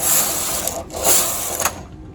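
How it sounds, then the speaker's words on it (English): A domestic knitting machine carriage sweeps across two rows in a tuck-stitch project, giving two loud, close mechanical rattling passes with a short pause between them and no talk. "And I'm going to knit 2 rows."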